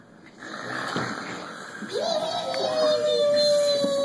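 A storyteller's voice imitates loud snoring with long, rasping, drawn-out snores during a told story, building in volume, with a rising whine over the last breaths.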